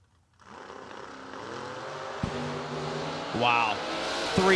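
Nick McGovern's Camaro drag car launches at Kil-Kare, its engine rising into a harsh revving roar, with sharp gear-change breaks and climbing whines as it pulls away, while an announcer talks over it.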